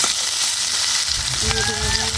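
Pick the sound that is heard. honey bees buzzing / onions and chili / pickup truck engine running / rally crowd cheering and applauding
onions and chili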